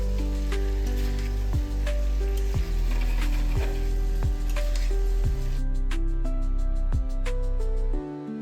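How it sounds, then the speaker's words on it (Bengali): Fried chicken pieces are tossed in a sizzling sauce in a pan with lemon leaves, a steady loud sizzle running throughout with regular scraping stir strokes roughly every second. "এবার ভেজে রাখা চিকেনগুলো সসে ভালো করে টস করব"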